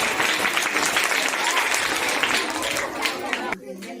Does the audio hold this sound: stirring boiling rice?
no